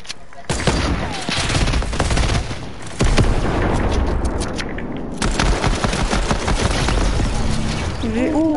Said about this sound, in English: Did you just shoot that?